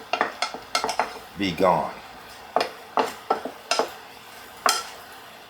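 A spoon stirs a thick mixture in a pan, giving a string of scraping clinks and knocks against the metal, loud and close, with a short word spoken partway through.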